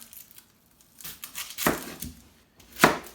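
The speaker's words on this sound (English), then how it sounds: "I'm gonna cut it up real small, throw it in there with the onion." A knife chops tomato and pepper small on a board, giving a few sparse, uneven close cuts and crunches separated by short quiet gaps.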